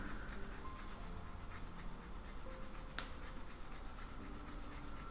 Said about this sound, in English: I'm going to sharpen it really quick.